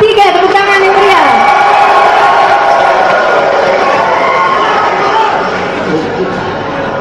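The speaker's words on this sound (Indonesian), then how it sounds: "Tepuk tangan yang meriah." An audience at a public election debate breaks into loud applause and cheering, a dense continuous roar of clapping, shouts and crowd noise that holds steady for several seconds.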